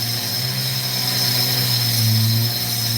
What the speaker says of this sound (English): this is a Dremel